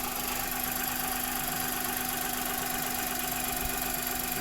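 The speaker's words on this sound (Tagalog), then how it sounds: "Umaandar na yung engine." A Hyundai Eon engine idles steadily just after a thermostat housing and water outlet replacement. It gives a constant, close mechanical drone with a slight knocking texture and no speech.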